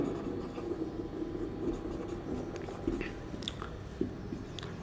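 Chalk or marker writing an example on a board during a chemistry class, a soft scratchy scraping with a few taps and squeaks over steady room hum.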